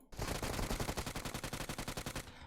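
Rapid automatic gunfire from a machine gun in PUBG Mobile, a loud, steady burst of about twenty evenly spaced shots that runs without a break for over two seconds and then stops abruptly.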